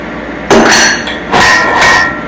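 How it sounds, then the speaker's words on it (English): A 500W electric meat grinder's motor housing is tapped to pop its end plate loose, giving two close, loud knocks that each ring on for a moment, with no talking. "Tap on the motor, pops that plate right out."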